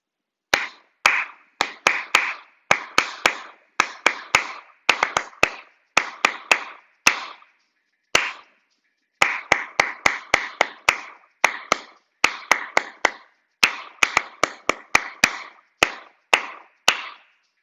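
Hands clap a rhythm for a GarageBand recording on an iPad, sharp close claps in quick patterned groups with short pauses between phrases, dry and alone with no talking.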